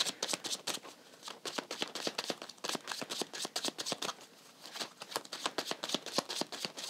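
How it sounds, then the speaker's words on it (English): Tarot cards being shuffled by hand, a quick run of crisp riffling flicks and slaps in steady bursts, close and fairly quiet, with no talking. "let me pull a clarification card about the Hierophant and also the Death card"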